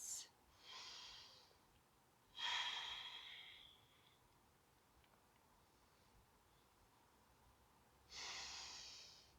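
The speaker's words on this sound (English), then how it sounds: "Big, deep breaths." Slow, deep breaths during a yoga session, three soft breathy exhales spaced several seconds apart, close and quiet against near silence.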